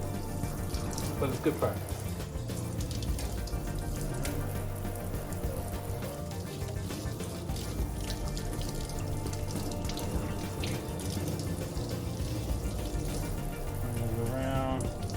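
Hands rinsed under a running tap at a sink as part of a surgical scrub, a steady rushing stream of water running the whole time, with a person talking briefly over it.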